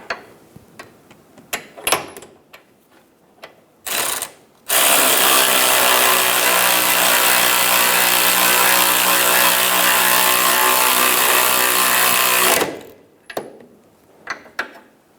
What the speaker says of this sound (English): while using an 18mm socket to snug down the nut.